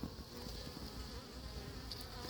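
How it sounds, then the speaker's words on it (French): Bees buzz continuously at an apiary in Crosne while swarming and fighting a wasp, a steady close insect hum with a few louder passes, faint overall and with no talking. "c'est des abeilles qui sont en train de rosser une guêpe"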